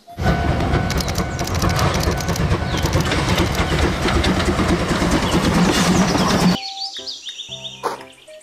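A Thomas toy train runs with a loud, steady rattling motor hum and clatter, then cuts to short electronic beeps and tones near the end, close up.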